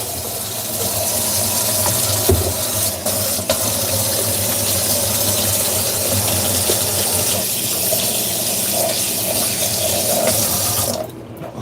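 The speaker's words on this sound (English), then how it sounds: "Wash your hands." Hands being washed under a running kitchen tap, with water pouring steadily and splashing into the sink for about eleven seconds, close and fairly loud with no talking.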